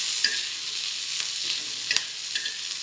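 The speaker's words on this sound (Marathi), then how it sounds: "कांदा भाजून घेते." Soft, steady sizzling of onions dry-roasting in a pan, with a few light scrapes of stirring.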